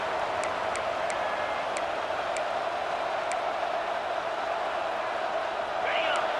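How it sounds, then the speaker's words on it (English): Stadium crowd noise in the EA Sports College Football 26 video game: a steady, distant roar of fans holds at an even level throughout, with faint intermittent whistles or tones above it. "This crowd bringing the energy and noise early"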